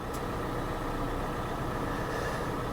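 Kia engine idling steadily during a recall service procedure, a continuous low rumble at constant level with no talk.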